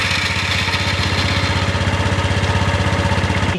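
A Honda SH150i scooter engine runs at a steady idle up close, a loud, even, rapid mechanical pulse that holds constant throughout with no other sounds.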